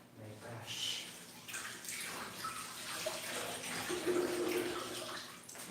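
Tap water runs steadily into a sink as garlic and onion are rinsed in a home kitchen before cooking dinner, a moderate continuous splash with a voice speaking faintly over it.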